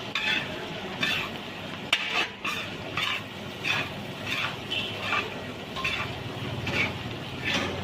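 Chicken kothu parotta is stir-fried in a pan, with a steady low sizzle under rhythmic scraping and clinking of the utensil against the pan, close and continuous, with no speech.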